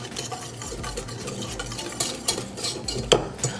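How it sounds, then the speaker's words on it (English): A whisk beats a spicy cayenne sauce for bread pudding in a bowl, fast irregular metallic clinks and scrapes against the sides, close and fairly loud, with no speech. "We'll get that whisk in."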